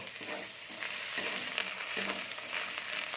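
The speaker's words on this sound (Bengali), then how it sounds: "পেঁয়াজটা আমার ভাজা হয়ে গেছে, এর মধ্যে আমি 1 চামচের মতো আদা বাটা দিয়ে দিচ্ছি" Fried onion with ginger paste frying in a pan, giving a continuous close sizzle with intermittent stirring scrapes and no talking.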